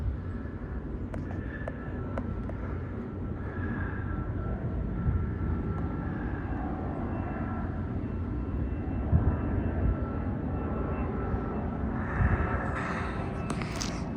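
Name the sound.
airplane flying overhead, two engines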